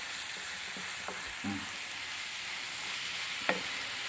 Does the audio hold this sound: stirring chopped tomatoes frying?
yes